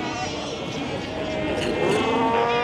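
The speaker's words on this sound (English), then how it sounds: "So these are called Cape fur seals" Cape fur seals at Cape Cross Seal Reserve in Namibia, a large colony's dense overlapping bleating and moaning calls, sounding much like a flock of sheep, continuous and close throughout.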